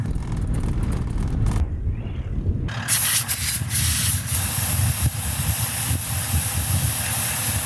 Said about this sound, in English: we letting the tires down? 18, I reckon, to be safe with this truck